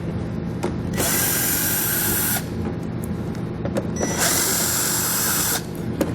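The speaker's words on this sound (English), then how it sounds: "2 more fasteners that I'm going to remove with a 7/32 bit" A power drill with a 7/32 bit runs in two sustained bursts while removing fasteners beneath a 2016 Ford Edge during a hitch receiver install, with quiet shop background between bursts.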